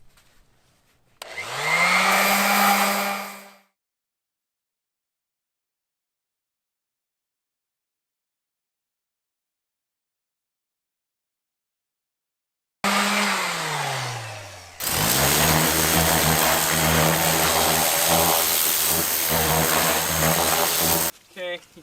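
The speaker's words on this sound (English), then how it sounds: "We're going to clean this up with some 220 grit sandpaper on this oscillating sander right here" Oscillating sander fitted with 220 grit sandpaper buzzes in short bursts on a used truck's surface: a brief run that winds down, a long silence, then a spin-up into a sustained loud, steady drone.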